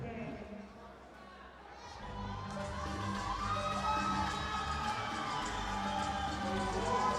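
A crowd at an MMA fight event cheers and roars for a fighter, rising from a murmur into a loud, sustained swell with shouting voices mixed through it.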